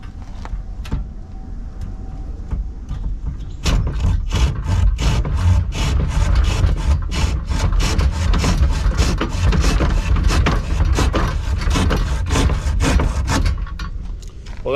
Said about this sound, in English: Handsaw.